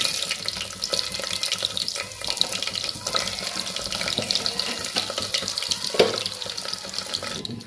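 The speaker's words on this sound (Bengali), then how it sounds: "এর মধ্যে আমি জিরে ফোড়ন দিলাম, একদম জিরে ফোড়ন।" Cumin seeds crackle in hot oil as a tempering for a bottle gourd dish, a close, steady fizzing hiss with small pops and one brief louder clatter near the end.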